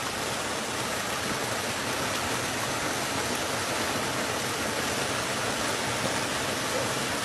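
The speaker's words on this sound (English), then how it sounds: "there's the waterfall." A waterfall at a swimming spot roars as a constant, even broadband rush, steady and fairly close with no pauses.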